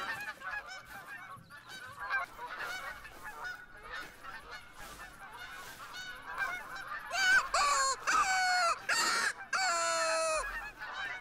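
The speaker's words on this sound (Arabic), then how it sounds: "البط هون كثير بالمنطقه، شو عم بيصير؟" Ducks call in the area in a dense, overlapping chorus of nasal honks that build into louder, closer calls toward the end.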